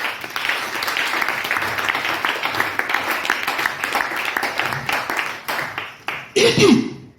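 A church congregation applauds the Lord with a sustained wash of clapping that fades out, followed by a close cough or throat clearing at the end.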